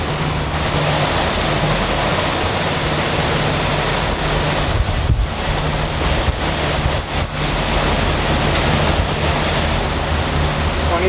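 Strong 27-knot squall wind and rushing waves aboard a sailboat, a loud, constant roaring wash of noise with gusts buffeting the microphone throughout.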